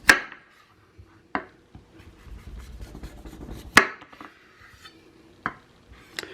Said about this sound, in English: So first we're going to take the butternut squash. We're going to cut off the ends.